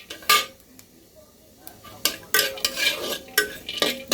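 Masala spice powder stirred and fried in a little oil in a pan, with scraping clatters of a spoon or spatula against the metal in irregular bursts over a faint background sizzle.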